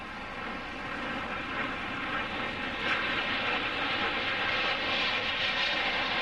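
Several jet planes flying low in close aerobatic formation during an air show display, a dense, steady roar of engines that swells slightly, continuous and loud with no voices.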